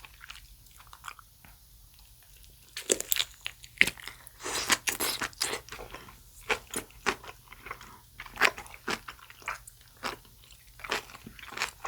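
Close, wet crunching and biting of skate skin jelly eaten with kimchi, in irregular repeated bites and chews that grow busier after a quiet start, with no talking.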